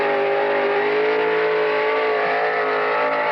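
A car engine drones steadily at high revs as it drives, loud and close with a constant harmonic whine and no voices over it.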